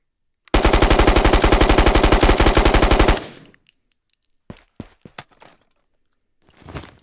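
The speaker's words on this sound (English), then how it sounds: "a gun that I love, and I think it is just a little too slow on the rate of fire probably, but the G36" A G36 5.56 rifle fires a sustained, loud, rapid automatic burst in the video game Ghosts of Tabor. After about three seconds the burst cuts off, leaving a short tail and a few scattered clinks and thuds.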